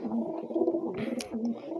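Pigeons coo softly and repeatedly, their low warbling calls overlapping at a moderate distance.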